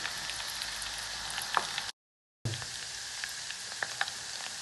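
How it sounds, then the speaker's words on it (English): Ginger oil boiling in a pan, a steady close crackling sizzle with scattered sharp pops, briefly cut off by a short silent gap before the frying continues. "You can see how this oil is boiling, and you can even see the fumes,"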